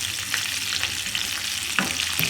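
Chicken pieces frying in a pan with a small amount of oil, a steady close sizzle with occasional stirring clatters and spatters, no voices.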